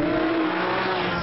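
Porsche 911 GT3 road-and-track sports car driving past at speed, a loud steady engine drone with a hint of tyre noise over a short burst, no voices.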